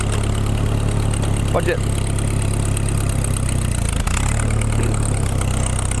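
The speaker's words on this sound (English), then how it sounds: "Push the choke in, and it runs perfect every single time." A farm tractor engine idles steadily and loudly throughout, a constant low rumble with a brief spoken remark over it.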